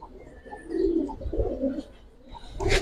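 Pigeons coo softly and repeatedly nearby, low rolling calls with a few faint chirps in the background.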